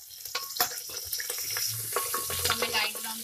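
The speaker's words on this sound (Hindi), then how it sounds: "तेल हमारा गरम हो गया है, इसमें हम प्याज और हरी मिर्च डाल देंगे।" Onions and green chillies frying in hot oil give a close, moderate sizzle with scattered clinks and scrapes of stirring, a brief watery splash mixed in, and no talk.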